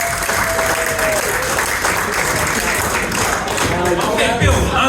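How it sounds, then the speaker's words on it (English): A corporate dinner audience breaks into a dense, steady round of applause filling the room for a guest named Bill, many hands clapping at once with scattered voices and cheers mixed in throughout. "Big round of applause for Bill, ladies and gentlemen."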